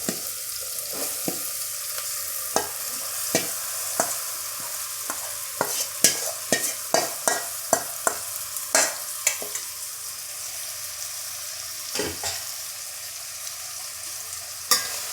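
A marinated vegetable mixture for veg biryani is stirred and fried in a pan, with a steady sizzle under repeated sharp scraping and clinking strokes of the spoon, close and fairly loud, with no talking.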